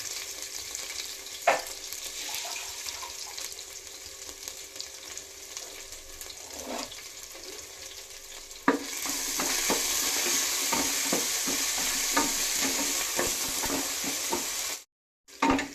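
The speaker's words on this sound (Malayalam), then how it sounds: "ഇപ്പം അത് ചൂടായതും നമുക്ക് ജിഞ്ചർ ഗാർലിക് പേസ്റ്റ് അതിലിടാം." Ginger garlic paste sizzles and fries in a hot pressure cooker for a chicken biryani, with steady crackling frying noise and occasional stirring scrapes, getting louder and more intense midway as the paste is stirred in.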